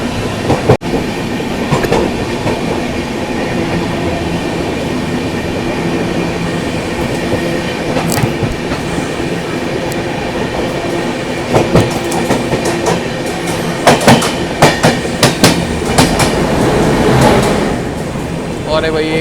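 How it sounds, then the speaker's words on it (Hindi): A Delhi to Prayagraj Humsafar Express runs at high speed, around 126-130 km/h, heard from inside with a loud steady rumble, rhythmic wheel clatter and sharp rail clicks, while someone talks over it. "भाई ट्रेन अपनी बढ़िया स्पीड से चल रही है, 126-130 पे"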